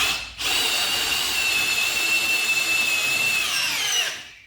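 An Ozito 18V brushless hammer drill drives a screw in first gear, giving a loud, steady whine that holds for about four seconds and then slows and winds down as it stops.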